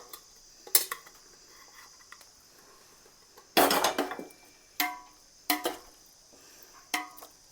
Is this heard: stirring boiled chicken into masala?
yes